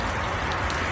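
Hard rain falling on a hunter's rain jacket, a brief, close, steady wash of pattering drops with no talking.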